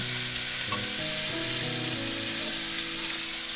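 Chicken pieces sear in a hot pan for fricassee, giving off a steady, dense sizzle and crackle that continues evenly with no pauses, close to the listener, and no voices.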